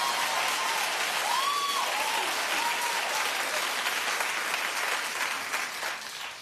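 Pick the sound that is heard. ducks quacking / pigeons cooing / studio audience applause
studio audience applause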